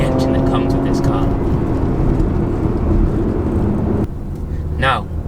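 Porsche Macan GTS engine, a loud continuous sustained roar for about four seconds, then cutting to a quieter passage with a brief voice.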